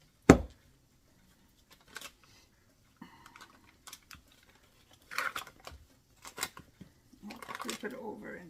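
Knife cutting down through a block of butter in a home kitchen, a few soft separate taps and scrapes on a board with quiet pauses between them, heard close and faint.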